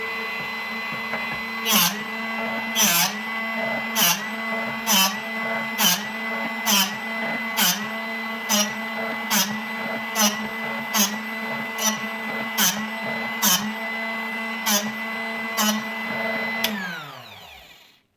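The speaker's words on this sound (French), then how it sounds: "Donc là, j'allume la machine." A Drill Doctor XP bit sharpener hums steadily while sharpening a drill bit, with regular rhythmic grinding pulses about once per second as the bit is turned, then the motor winds down at the end.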